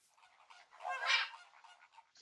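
Minecraft ducks quack faintly in the game, a soft chatter of small calls with one louder honking quack rising in the middle, distant and thin against silence.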